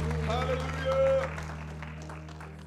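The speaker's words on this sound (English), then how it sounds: "give him a hand clap this morning" A church congregation claps and applauds during a morning worship service, a steady wash of clapping that runs under a sustained musical backdrop and a preacher's voice.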